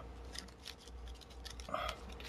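A shuffled deck of playing cards being cut before a card game, giving faint soft riffles and shuffling rustles that end in one sharp, louder snap of cards near the close.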